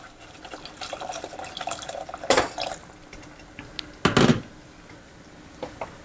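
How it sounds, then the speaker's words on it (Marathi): Hot water splashes into a pot of matar usal, a Pune-style green pea curry, in two short pours with dripping and trickling between them, fairly close and otherwise quiet. "आता याच्यामध्ये मला गरम पाणी घालायचं"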